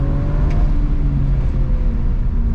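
A BMW 335i engine hums steadily from inside the car as it drives, a close, loud low drone with a rising whir as it accelerates, with no talk over it.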